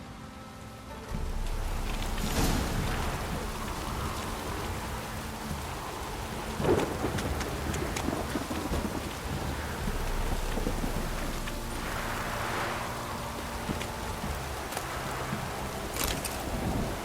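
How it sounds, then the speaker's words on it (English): Heavy rain and rolling thunder from The Witcher 3, a constant downpour hiss under several deep thunder rumbles and cracks spread across the stretch, no voices. "This downpour's a bastard, it is."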